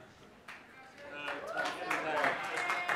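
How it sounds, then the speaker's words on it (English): An audience claps for someone, the applause swelling from scattered claps into steady clapping that grows a little louder, with voices mixed in. "No, you don't have to applaud me."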